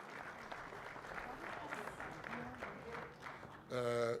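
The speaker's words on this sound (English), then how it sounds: "can we give the Deputy Minister a hand of applause?" Crowd applause for a Deputy Minister at a Bafana Bafana squad announcement, a soft, steady patter of clapping with murmured talk mixed in, ending in a short, loud burst of voice.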